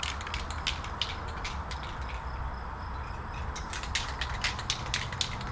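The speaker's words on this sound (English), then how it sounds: "about spray paint is you want to make sure you shake it up real good" A Rust-Oleum high heat spray paint can is shaken steadily for several seconds, the mixing ball rattling in a quick, continuous rhythm up close with no talking.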